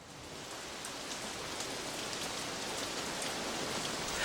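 Steady rain falling, heard during a paraglider's descent over a town in the Red Bull X-Alps race in the Alps; an even, hissing wash of drops that stays constant and grows slightly louder toward the end.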